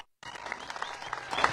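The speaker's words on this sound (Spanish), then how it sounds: "Fuerte el aplauso para Ramón Cervantes Gómez, en paz descanse, y para su familia que está aquí." Crowd applause for a deceased man and his family before a night horseback procession in Villa de Álvarez in 2023: after a brief silence, a dense burst of clapping rises and holds steady, loud and close.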